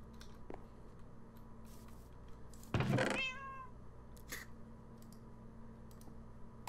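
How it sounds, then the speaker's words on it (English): A cat meows once in Minecraft, a short loud cry with a falling pitch that stands out clearly over quiet background clicking. "That meow sounded angry to me."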